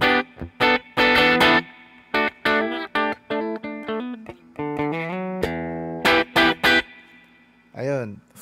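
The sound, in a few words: guitar with a little reverb effect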